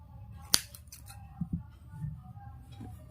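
A single sharp snip of scissors cutting woolen yarn while crocheting a woolen dress for a small idol, with faint handling noises and low room hum around it.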